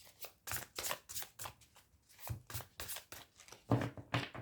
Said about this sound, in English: So let me just shuffle the cards and then let's get started.